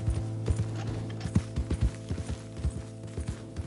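Horse hooves clip-clop at a steady, close rhythm in a PS4 video game, with a low constant hum from the game running underneath.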